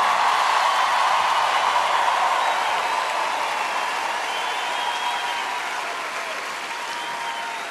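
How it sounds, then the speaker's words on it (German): A large concert audience applauds a show with steady, dense clapping and crowd noise, loud and continuous throughout before easing off slightly toward the end. "Könnten wir das mit einem Applaus so unterstreichen?"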